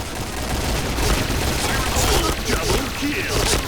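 Rapid gunfire from a first-person shooter video game crackles steadily and loudly, dense overlapping shots forming a continuous barrage with faint voice in the background.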